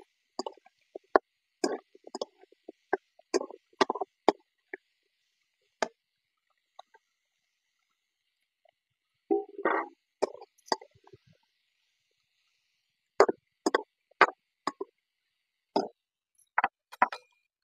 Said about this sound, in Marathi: आता भोपळा टाकून घेते. हलवून घेते जरा चांगलं.